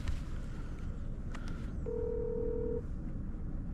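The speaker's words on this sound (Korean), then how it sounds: "누구야, 전화?" A phone rings outdoors at a seaside fishing spot, a single steady electronic tone lasting about a second, faint against a constant background of wind and water.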